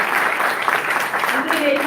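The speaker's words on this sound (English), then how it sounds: "Give it up, give a round of applause" A gala crowd gives a steady, close round of applause with dense clapping throughout, while a voice talks over it.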